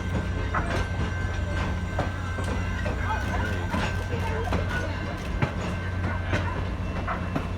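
A train with a power car rumbles steadily with continuous low mechanical noise and rhythmic wheel clatter, a faint tone running throughout.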